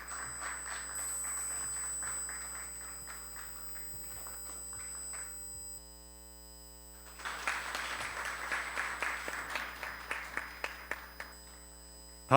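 An audience at a committee launch ceremony claps in two bursts separated by a pause, moderately loud over a steady electrical hum, the second round thinning into individual claps.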